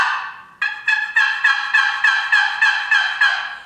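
A 2020 Trinity Yelper box call, a wooden turkey call, imitates a gobble: about ten quick, loud, raspy notes rattle close up in an evenly spaced burst after a brief opening squawk.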